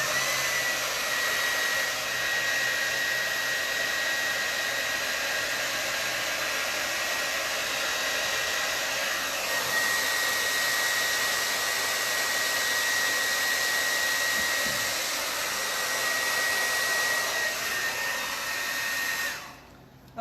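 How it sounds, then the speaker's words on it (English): A hair dryer blows steadily on a glitter resin table top, a loud, close, continuous whirring roar with a faint high whine that lasts about twenty seconds before switching off abruptly. "I'm going to hit this little corner with the hairdryer."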